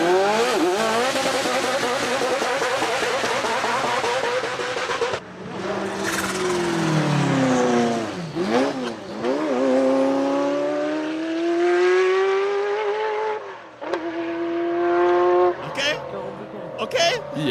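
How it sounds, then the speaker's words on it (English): A Ferrari F40 LM race car without exhaust drives past, its rising and falling engine tone mixed with tire and wind noise, the pitch sweeping through shifts and passes while people talk over it. "To be fair, that's a F40 LM."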